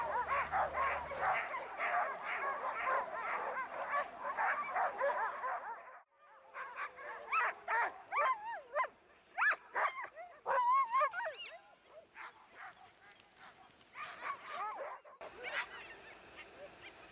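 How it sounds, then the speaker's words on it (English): Sled dogs beside a frozen lake in Arctic Norway near Kirkenes bark, yelp and whine in a dense, overlapping chorus that breaks off, then returns as scattered individual barks and howls at close range. "some dog sleds taking people for rides around a frozen lake."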